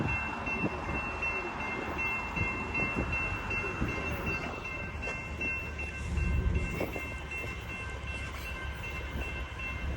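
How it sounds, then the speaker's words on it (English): A northbound Union Pacific concrete train with ES44 locomotives rolls past the Stassney Lane crossing, its continuous rumble and wheel rattle filling the scene while steady horn tones sound over the passing cars. "I'm gonna make him honk, Tony."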